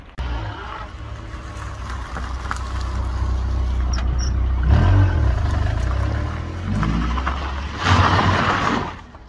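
A car reverses slowly through a narrow gap between boxes, its engine a steady low rumble that swells in a couple of light revs, with no talk over it.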